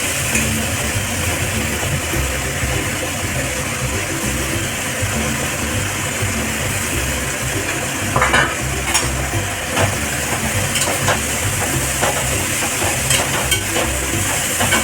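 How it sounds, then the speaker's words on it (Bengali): Pabda fish and green chillies fry in hot oil in a kadai with a continuous close sizzle and crackle, with a few spatula scrapes and taps in the middle and no talking. "মাছটা ভাজা হোক কড়াইতে, মাছ ভাজা হোক"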